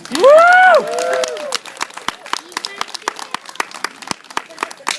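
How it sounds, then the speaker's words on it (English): Sparse, scattered clapping from a small audience at a live fire-eating show, following a brief vocal exclamation; the claps are light and uneven rather than a full ovation. "Usually people applaud that sort of thing."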